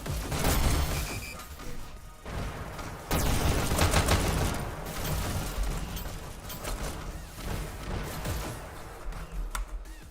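Rockets firing and impacting in the VR game Hyper Dash during an e-sports league match, a string of sharp blasts and crashes over busy game noise, fairly quiet overall.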